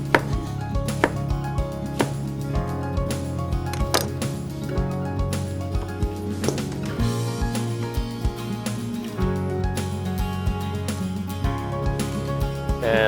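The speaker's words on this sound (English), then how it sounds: "And now we'll slice the zucchini." A knife slicing zucchini on a cutting board, with steady, rhythmic chopping knocks repeating close and loud through the whole stretch, with no talk.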